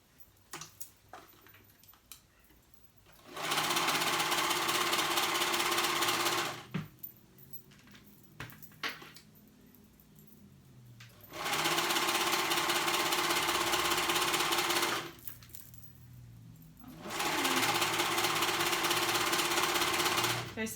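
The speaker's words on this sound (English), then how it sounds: "And now we're gonna sew, and as we sew, we're gonna stretch that band to fit our pant leg." A sewing machine stitches a stretched cuff band onto a jogger pant leg, running in three steady, loud bursts of several seconds each, with quiet pauses and faint handling noise between runs.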